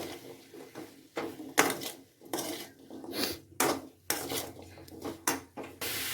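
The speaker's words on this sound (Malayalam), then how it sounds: "ഇനി നമുക്കിതൊന്ന് നന്നായി മിക്സ് ചെയ്ത് കൊടുക്കാം." A spoon scrapes and clanks against a pot while pumpkin is mixed with turmeric, chili powder and salt, a series of sharp irregular metallic knocks and scrapes close up, with no talking.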